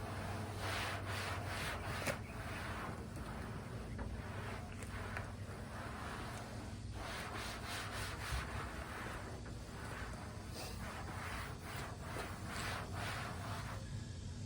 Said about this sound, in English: Turn it over and see what happens as I wipe it with this one.